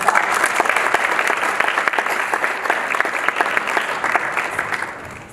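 Audience applause at a digital citizenship summit panel, a dense, steady wash of many hands clapping that carries on evenly for several seconds before tapering slightly at the end.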